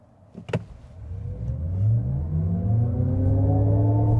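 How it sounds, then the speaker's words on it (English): A Cadillac Optiq EV accelerates hard at full throttle in sport mode, its electric drive whine rising steadily in pitch alongside swelling road and tire noise; a short knock comes near the start, and no voices are heard. "I have the car in its sport setting, and then we're just gonna go ahead and floor it."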